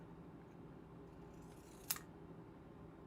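A single crisp snip of scissors cuts card stock during handmade card making with Stampin' Up! supplies, set against a steady low room hum.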